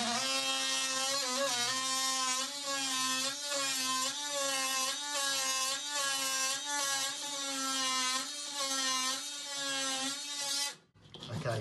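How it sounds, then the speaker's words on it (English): An oscillating multi-tool cuts through a chipboard floor with a loud, steady, buzzing whine that holds for about eleven seconds, wavering slightly as it bites, before cutting off abruptly. "I'm just going to cut through using a multi-tool"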